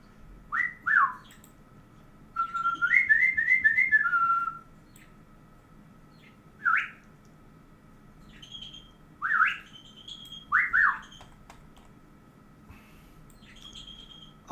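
A person whistles short rising and warbling phrases to a pet bird in a quiet room, spaced out over the stretch with pauses between, faint but clear over a low background hum.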